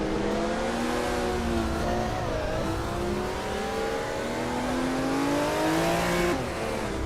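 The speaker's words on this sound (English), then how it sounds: "Gerloff Diamond has shot off the line to take the lead." Race cars roar off a starting line, a 1978 Porsche 935/78 leading the pack, engines loud and close as they rev and climb through the gears with a rising, layered whine, a faint tire squeal near the end.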